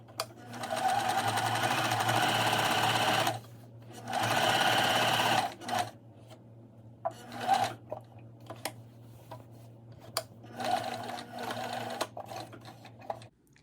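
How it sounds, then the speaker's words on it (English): A sewing machine stitches a seam along a drawn line on fabric for French-seamed inseam pockets, running in two long whirring bursts and then short stop-start runs with clicks and handling between, with no talk. "next we're going to sew along this line right here that we drew previously"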